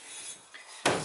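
A single sharp metallic tap from a small hammer on aluminum rings out near the end, following a brief faint hiss of brake cleaner spray, close and fairly quiet, while installing a rear main seal on a 6.7 Cummins engine.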